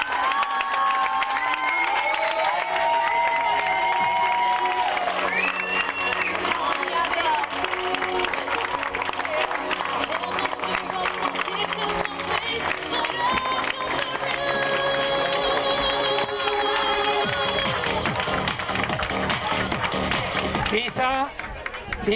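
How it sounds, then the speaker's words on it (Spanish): Crowd at a beach handball club's farewell party, cheering and shouting continuously, with music or voices layered underneath and a loud, dense, sustained roar across the whole stretch. "Así que un aplauso."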